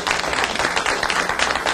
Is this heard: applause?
yes